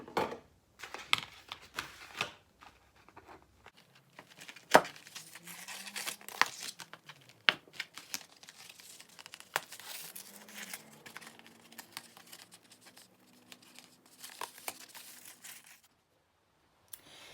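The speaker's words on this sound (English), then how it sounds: "Now I have poked 12 holes around this paper plate" Paper plate being poked with holes around its rim, giving a series of scattered small crinkling, tearing taps and crunches with quiet pauses in between, close up, with no talking.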